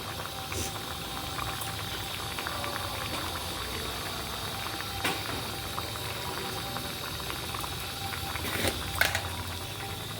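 Dhokar dalna curry with garam masala simmering in a pan, a steady soft bubbling hiss that runs throughout at low level, with a few faint clicks and one brief louder knock near the end.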